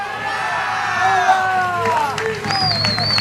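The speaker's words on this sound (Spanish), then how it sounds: "Fuerte el aplauso para todos aquellos que lo han bailado" A crowd at an outdoor Galician dance celebration in Buenos Aires claps and cheers steadily at moderate distance, with a few high whoops and whistles rising over the noise.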